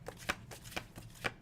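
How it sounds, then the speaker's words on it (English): Playing cards are shuffled in quick riffles, three or four crisp bursts spaced about half a second apart, close and fairly soft with no voices. "shuffle the cards and I let your guides pick"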